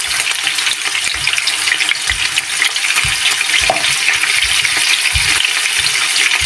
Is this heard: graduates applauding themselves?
no